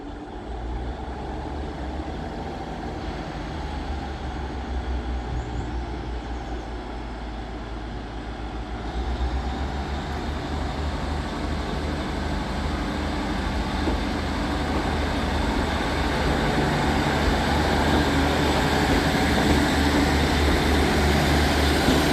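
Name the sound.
class 150 train departing Crewe station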